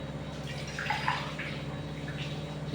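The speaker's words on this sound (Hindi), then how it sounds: "2 गिलास पानी डाल देंगे।" Two glasses of water poured into a pan on a lit gas stove to make rava upma, a steady splashing rush that runs throughout at moderate level with no talk.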